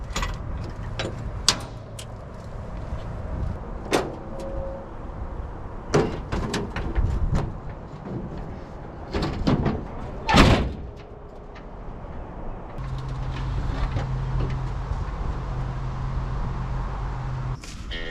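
The door of a worn Toyota FJ45 Land Cruiser truck, a makeshift replacement on an old body, produces a series of metallic clunks, latch clicks and rattles at close range, with scattered knocks before a low steady hum at the end.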